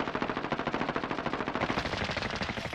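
FAL rifle firing full-auto in the video game Call of Duty Modern Warfare during a Hardpoint match, a rapid steady stream of loud shots, close and continuous for nearly three seconds.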